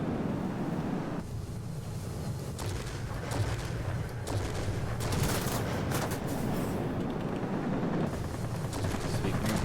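Aircraft machine guns fire in a dense, sustained rattle in World of Warplanes, aboard a Ho 229 jet, mixed with roaring wind and engine noise. Loud and continuous throughout, with no talk.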